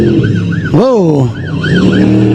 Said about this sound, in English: He hit the horn.